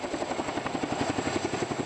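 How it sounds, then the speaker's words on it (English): A helicopter at an Armed Forces Day ceremony gives a loud, steady rotor thump in rapid rhythmic pulses, close and continuous with no voices over it. "The highlight of today's event is the helicopter boarding experience."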